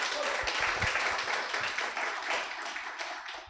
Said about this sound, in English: can we get a big round of applause for Steve Ruiz?